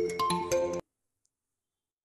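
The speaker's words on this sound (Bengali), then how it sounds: "আব্বাই ফোন দিছে।" A mobile phone ringtone sounds for an incoming call, a short, loud melodic phrase of a few tones lasting under a second and then cutting off into silence.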